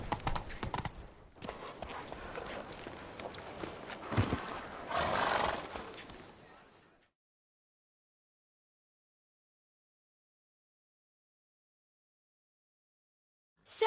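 Roach, Geralt's horse in The Witcher 3: Blood and Wine, clops along at a steady hoof rhythm and lets out a whinny, close and fairly loud. Silence follows for the second half, ending in a sudden burst.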